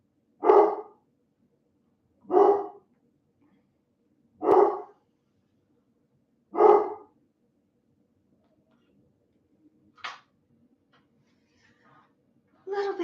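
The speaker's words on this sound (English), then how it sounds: "Are my dogs making your guys' dogs bark?" Dogs at a house bark in sharp single barks spaced about two seconds apart, then a sharper yip and more barking after a pause, moderately close with no talk over them.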